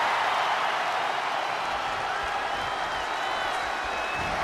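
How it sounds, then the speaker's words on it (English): Dense, steady roar of a wrestling arena crowd in WWE 2K23 during a 60-minute iron man match, a continuous broadband wash of cheering with no breaks throughout. "The sound of this crowd is deafening"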